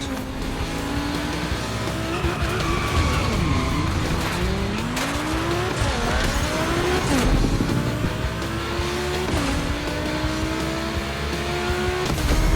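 Race cars in The Crew Motorfest video game, Volkswagens from the Hoonigan update, skidding around a track with sweeping tire squeals over loud continuous engine roar, several long screeching slides rising and falling in pitch.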